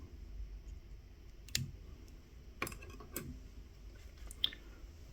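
Small scissors trim thread ends on a crocheted woven stonefly nymph fishing fly, making a few faint, sharp clicks spaced a second or so apart over a quiet background.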